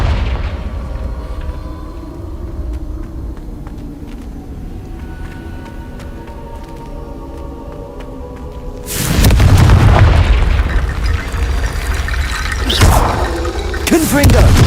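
Confringo spell blasts in Hogwarts Legacy, a loud booming explosion erupting after a quieter stretch, followed by further rumbling impacts, with a voice talking over the game audio.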